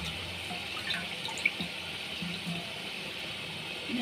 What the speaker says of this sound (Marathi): स्वच्छ पाण्याने धुवून घेते.